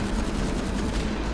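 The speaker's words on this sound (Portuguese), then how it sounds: "Também tiro de sniper, mano." Rapid gunfire rattles in a GTA V Online deathmatch, a dense burst of repeated shots running for over a second at moderate loudness with no talk over it.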